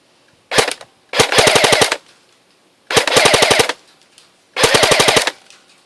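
A JG AUG A3 airsoft electric gun run on a 7.4 V LiPo fires on full auto in four loud, close bursts, one brief and three longer, each a rapid, even rattle of shots with silent gaps between.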